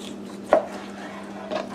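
A knife cuts through turkey meat on a board, trimming off fat: one sharp chop early, then a softer second cut near the end, close and isolated against a faint steady hum.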